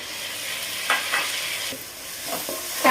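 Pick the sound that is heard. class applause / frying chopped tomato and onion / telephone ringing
frying chopped tomato and onion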